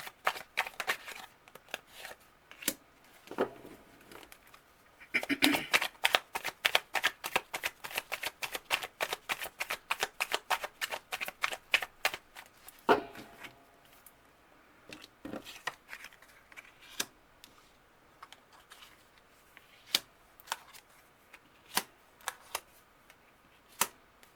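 Tarot cards are shuffled by hand in a quiet room, a long run of quick crisp riffling snaps and flicks, sometimes dense and rhythmic, sometimes sparse and separate.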